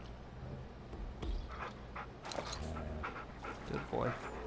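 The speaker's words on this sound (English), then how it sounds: "You're a good wolf." A tamed wolf in the video game Far Cry Primal pants steadily at close range, with talking over it throughout.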